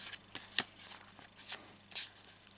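A deck of playing cards is whisked through by hand in several quick riffling bursts, crisp and close, with brief gaps between them.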